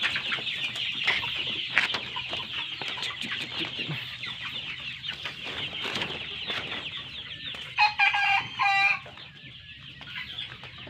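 Chickens cluck continuously inside a coop, a dense, moderately close flock murmur with scattered louder clucks and a brief burst of sharper calls near the end.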